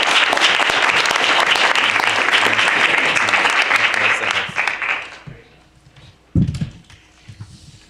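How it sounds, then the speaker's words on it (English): Conference attendees in New York give a loud round of clapping for a panel and the Internet Society, sustained for about five seconds before tapering off into scattered claps, a thump and light room noise. "So let's give everyone, especially the Internet Society,"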